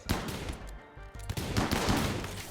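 Rapid bursts of gunfire ring out in a Rimworld battle, a string of sharp cracks with a brief lull midway before the shooting resumes, dense and fairly distant-sounding.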